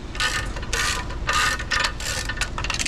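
Ratchet wrenches being swung, giving bursts of rapid metallic clicking that start and stop in several strokes, close and fairly loud, with no talk.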